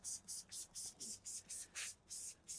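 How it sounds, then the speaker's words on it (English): Rapid bursts of a spray bottle misting water onto a car headlight during restoration, about ten quick evenly spaced pumps, close and crisp. "So let's go ahead and spray."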